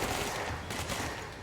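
Dense burst of gunfire during headshots in the video game Control, a loud continuous rattle of overlapping shots lasting the whole moment with no pause.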